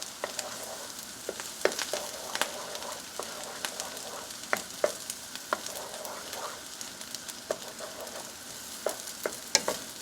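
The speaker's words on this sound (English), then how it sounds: "you want to crack these eggs and start scrambling them" Eggs scrambled and fried in a hot fry pan for fried rice give a steady crackling sizzle, broken by sharp clicks and scrapes of stirring. It runs close and continuous, with no talk.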